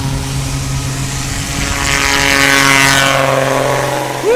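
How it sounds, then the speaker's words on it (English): A Sonic Rebel STOL airplane flying at a STOL competition in Hartford, Wisconsin: a loud, steady propeller drone with strong tonal hum that swells as it passes close by, with no talk. "I will never get used to the sound of that airplane. It just cuts through you."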